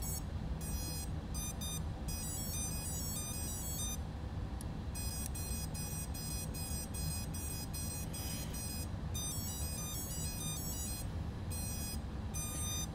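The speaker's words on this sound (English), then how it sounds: "All that beeping was the chime for the motors to get calibrated" Rapid high-pitched electronic beeps of a Plug'nPilot Martian2-140 V1 drone's motor calibration chime sound in repeated clusters and patterns over a constant low motor hum, sustained throughout.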